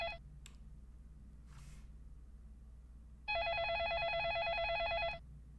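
Electronic telephone ring inside the Façade video game, a single sustained trilling burst of about two seconds that comes in loud and clear after a quiet stretch of soft background hum.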